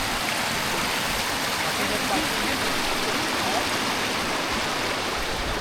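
Snowmelt rushes down a mountain stream in a loud, dense, unbroken wash of water that carries on evenly and close, with no voices heard.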